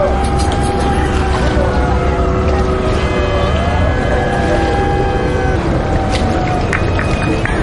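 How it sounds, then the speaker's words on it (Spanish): Several motorboats accompany the Virgen de la Candelaria procession on the Papaloapan River, their engines a steady, loud drone with a continuous low rumble, joined by other tonal engine whines partway through, with no speech. "Muchas lanchas, ¿verdad?"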